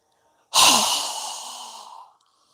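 A single long exhale through the mouth during a yoga breathing exercise, a breathy, airy whoosh that starts abruptly and fades over about a second and a half, close and alone in a quiet room.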